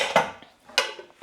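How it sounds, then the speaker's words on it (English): Heavy-duty, hard-wearing pots and pans clank in a kitchen, two sharp metallic clatters about half a second apart, each ringing out briefly before fading. "we love hard-wearing, heavy-duty pots and pans"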